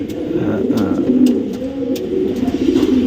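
A competition dove coos steadily in low, rolling repeated phrases, close and loud, with faint higher chirps in the background.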